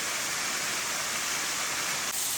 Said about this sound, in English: exploring two waterfalls, Rhapsody Falls and Dismal Falls, which is at the far end of Panthertown Valley